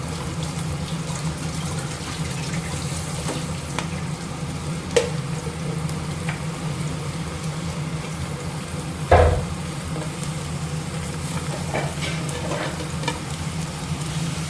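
Chopped vegetables sauté with ginger and garlic in a pan for a chapati kurma, a steady close sizzle with a low hum beneath and a couple of brief clicks, no talking.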